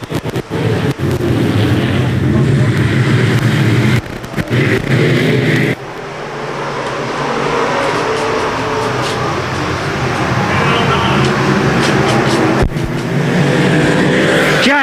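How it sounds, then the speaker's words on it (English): Modified race cars roar around a speedway, a dense, loud engine drone that drops out briefly then builds again into a sustained pack of cars at full throttle. "Modifieds out on the speedway, getting ready to go"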